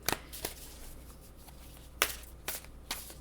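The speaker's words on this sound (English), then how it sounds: "These cards have a matte finish, so they don't quite slide real well. So I try to shuffle them pretty good." Matte-finish tarot cards being shuffled by hand, a few quiet, separate bursts of riffling and slapping with short pauses between them.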